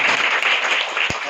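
Students clap together in a classroom, a brief burst of dense, close applause lasting just over a second.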